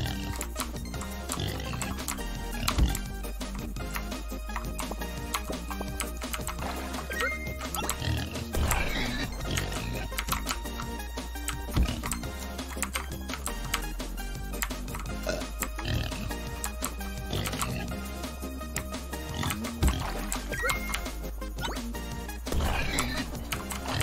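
Pig oinking from the video game Turnip Boy, set amid constant loud game music and effects, with grunts recurring through the dense soundtrack rather than standing alone.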